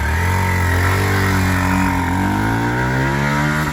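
A used 2022 Kawasaki Z125 Pro, a fuel-injected four-speed minimoto, runs close to the microphone with a loud, steady engine note whose pitch dips and swells a little as the throttle shifts, heard alone for a few seconds.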